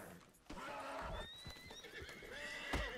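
Horse neighing and whinnying in the Red Dead Online video game, with clip-clopping hooves and game ambience, close and fairly loud throughout with a sharp hit near the end.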